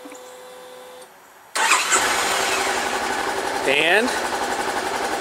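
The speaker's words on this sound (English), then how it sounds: "Now this is a two-cylinder parallel twin, and it sounds like a sewing machine when it's running" A Honda CB500X parallel-twin motorcycle engine cranks and catches after a starter whir, then settles into a loud, steady, close idle with a brief rev, as someone says a word at the start.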